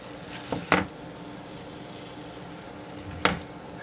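Chicken frying in a pan makes a quiet, continuous sizzle, broken by a few short, sharper crackles or utensil scrapes, with no talk.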